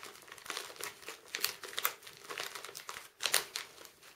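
A small plastic candy baggie being folded gives close, continuous crinkling and crackling with several sharper crunches, heard alone.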